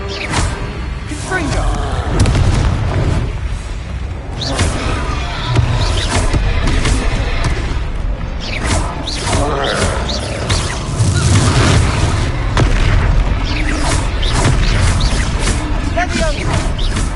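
Spell explosions from Hogwarts Legacy combat, with repeated loud booms and crashing impacts over dense game music and effects, while a voice talks through much of it.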